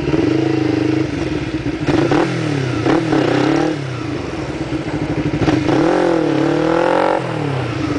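A motorcycle engine revs repeatedly during wheelie practice, rising and falling in pitch through several throttle bursts, loud and close with steady engine rumble between them.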